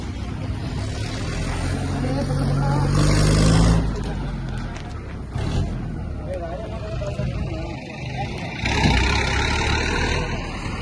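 A wedding-house vehicle at a village procession in Ronihal rumbles past close by, its loud engine drone swelling and receding with a few louder surges, under background chatter and crowd noise.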